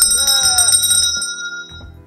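A bright bell-like chime rings out with sustained metallic tones, then fades, followed by a couple of faint soft knocks.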